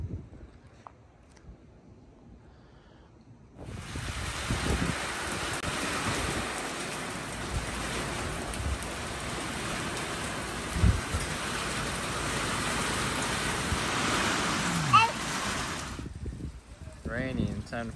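Steady desert rain pours down, a dense hiss of drops on surfaces beginning suddenly after a quiet stretch and ending abruptly, with faint sounds around it.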